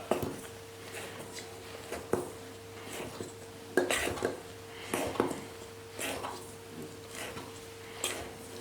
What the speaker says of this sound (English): this paddle goes nicely all around on your bowl, so the mixer gets blended in all nice